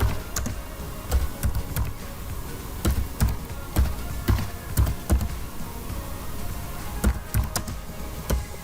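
Typing on a computer keyboard during a gynecological and obstetric consultation, a quiet, uneven run of clicking keystrokes in short bursts and pauses, close to the microphone, with no voices.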